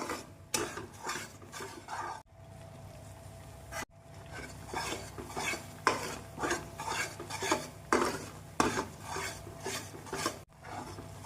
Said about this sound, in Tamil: நாம் எடுத்து வைத்திருக்கும் எண்ணெயை முழுவதும் ஊற்றி நன்றாக கிளற வேண்டும்